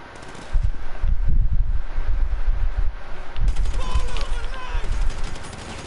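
Bursts of video game gunshots crackle in loose clusters over a wind-like background hiss, loud and close, with a short pause midway before more shots and some faint voice-like tones.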